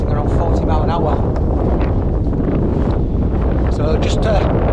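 Strong wind gusting to around 40 mph buffets the microphone on a February hike in the North York Moors, with constant loud rumbling and gusts, while indistinct voices sound faintly underneath.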